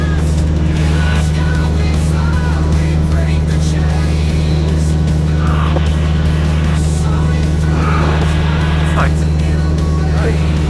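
Inside a moving car with a window open, a steady, loud engine drone runs beneath constant road and wind rush for the whole stretch, with no clear voices.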